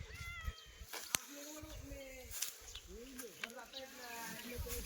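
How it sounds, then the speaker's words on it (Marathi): Several cat meows, some rising and falling, over a steady outdoor background with a couple of sharp clicks; no talking. "तेच मांजर आहे इथं कुठेतरी."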